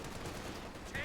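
An MG34 machine gun lays down suppressing fire in a hectic Company of Heroes 2 battle, heard as a quick, dense rattle of shots mixed under a commentator's continuous talk.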